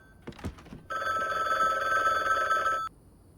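In the video game The Bookwalker: Thief of Tales, a telephone bell rings in one sustained electronic burst of about two seconds after a few short clicks, loud and alone with no voices.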